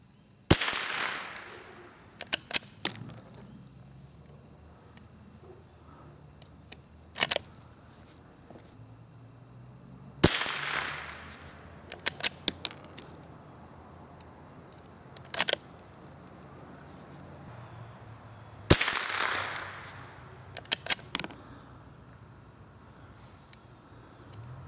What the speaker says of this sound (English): Now, we're going to be shooting at the middle target. Next 5-shot group.